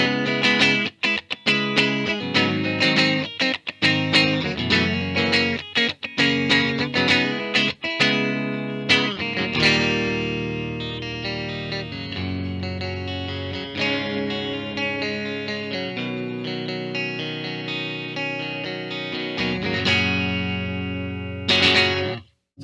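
A 2021 Fender 75th Anniversary electric guitar in Bourbon Burst, played in the middle pickup position, with clean, strummed chords and picked notes ringing out loud and close, continuous with no talk.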